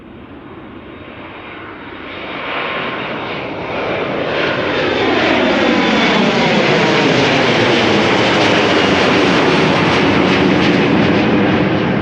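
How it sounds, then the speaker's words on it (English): A KLM Boeing 787 Dreamliner departs Amsterdam Schiphol for Bogota, its jet engines swelling from a distant rumble into a loud, sustained roar as it accelerates and climbs past. "after that the Dreamliner to Bogota"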